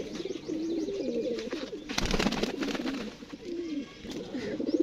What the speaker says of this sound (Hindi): ये भी सेट का लड़ता हुआ कबूतर है